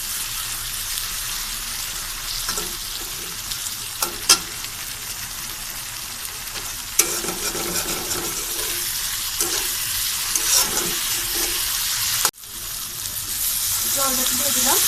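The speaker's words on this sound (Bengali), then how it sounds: "মশলাটা আমার কষানো হয়ে গেছে, তেল ছেড়ে দিয়েছে। এবার আমি জলটা দিয়ে দেবো।" Water goes into a pan of spice paste frying in oil for a rui fish curry, and a steady hiss and sizzle runs throughout with a few stirring knocks. A voice talks over it.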